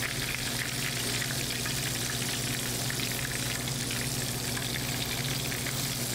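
Food frying in a skillet for a holiday meal, a dense, steady, close sizzle that hisses without a break the whole time, with no voices.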